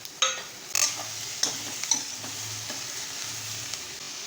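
A tomato frying and being stirred in a pan with sesame seeds for misal, steady sizzle with repeated scraping strokes of a spoon, close and moderately loud, no talking.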